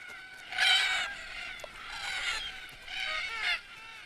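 Red-tailed black cockatoos gather at dusk by a watering hole along a tree-lined watercourse, giving three drawn-out, harsh, grating calls at moderate distance with short quiet gaps between them.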